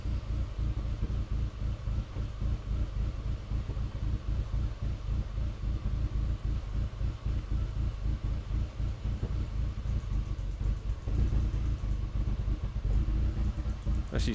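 A 2005 Skoda Octavia 1.8T 20V vRS idling with a lean-running fault, a steady close low rumble with dense irregular pulsing throughout and a slight rise in level near the end as the idle climbs.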